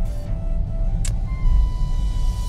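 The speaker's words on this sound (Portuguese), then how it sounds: "O carro passando aí" A car drives past on a road under construction, its low engine rumble swelling as it nears and holding strong through the end, with a short faint high squeak partway through.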